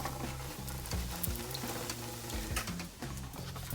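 A vegan Big Mac bun toasts face down in a frying pan with a soft, steady sizzle, faint and even, with light scraping sounds in the kitchen and no talk.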